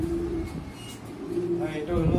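Imported Beauty Homer pigeons cooing softly in a loft, low repeated coos close by, mixed with people talking nearby.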